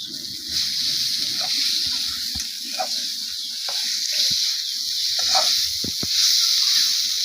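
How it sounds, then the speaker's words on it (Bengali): Water hits a hot pan of frying puti fish, raising a steady broad hiss and sizzle with a few clicks and knocks of the pan, close and continuous throughout. "এখন আমি পানি দিয়ে দিচ্ছি"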